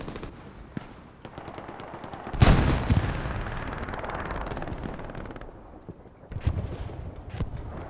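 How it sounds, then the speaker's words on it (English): Artillery shells land in a WWII game battle on Utah Beach, a dense rumble of blasts and rapid gunfire with a loud burst near the middle and another late, no talk over it. "Artillery landing on the ground now."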